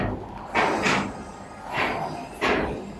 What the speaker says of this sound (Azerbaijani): Sağ olsun dostlarım burada qapını açmağa çalışırlar.